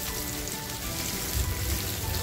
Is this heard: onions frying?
yes